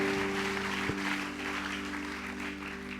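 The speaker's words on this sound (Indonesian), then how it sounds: "kita berikan tepuk tangan yang meriah bagi Tuhan Yesus" Applause fills a church worship night at a youth camp, a broad steady wash of clapping from the congregation over a sustained musical drone, holding evenly throughout with one brief louder accent.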